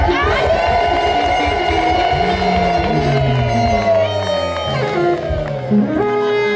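Women ululating in celebration at a church gathering, a dense, continuous crowd of high warbling voices layered over rhythmic low thumping, with cheers and shouts rising throughout.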